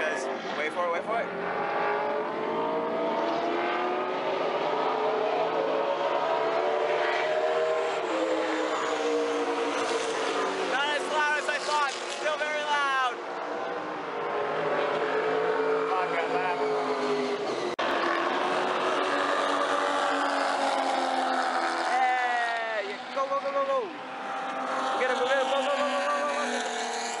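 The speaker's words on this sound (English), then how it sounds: "Cars are back again, and they're going very, very fast." Race cars at Watkins Glen scream past in waves, with loud engine whines rising and falling as they go by and a voice talking over them.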